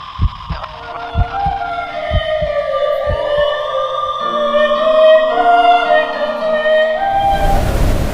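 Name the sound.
sirens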